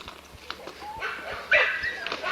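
Dogs at a kennel bark and yip in short bursts, some close and some farther off, with someone talking loudly over the noise.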